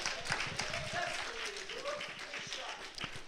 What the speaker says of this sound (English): There's a lot of people clapping their first shot.